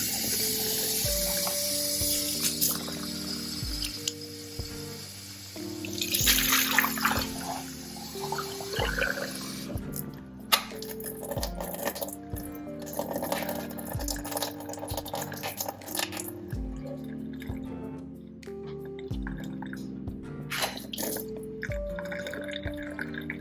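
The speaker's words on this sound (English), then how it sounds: "You just take a few more rinsings to get the suds out and everything." Water runs and splashes while a glass teapot is rinsed to wash out suds, giving intermittent pouring, dripping and clinking sounds with rhythmic knocks, close and fairly loud.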